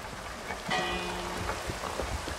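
Rain falls in a video game with snow on one side and rain on the other, a steady soft hiss of droplets with a brief tonal whine and light clicks over it.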